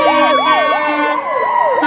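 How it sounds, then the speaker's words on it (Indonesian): A toy ambulance wails with a loud, close electronic siren, its pitch sweeping up and down in a steady repeating cycle across the whole stretch, with no voices over it. "Kalau yang ini ada ambulans."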